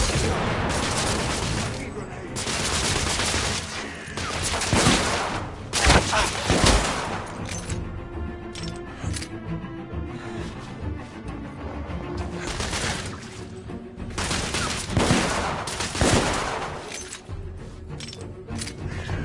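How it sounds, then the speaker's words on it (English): A video game battle in which bursts of rapid gunfire and booming explosions crash loudly in repeated waves, with a few quieter stretches between. Shouting voices come through under the shooting. "We're under heavy fire!"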